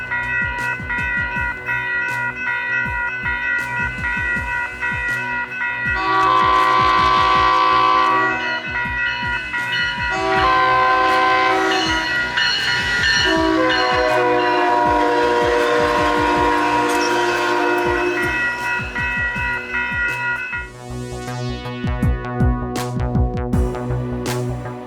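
A SMART commuter train sounds its horn with long, loud sustained blasts at the Windsor roundabout, heard close up over the rumble of the passing train, with a brief break between horn calls.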